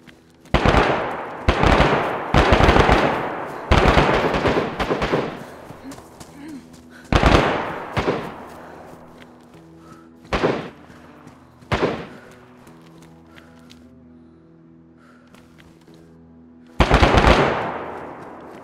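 Rapid bursts of gunfire in DayZ crackle in loud clusters, then scattered single shots, with quieter stretches between volleys and a steady background hum.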